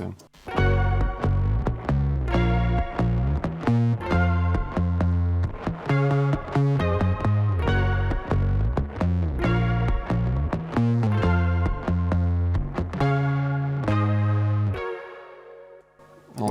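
A bright synthesizer plays a quick, plucky melodic line over full chords, steady and prominent, fading near the end with no talking.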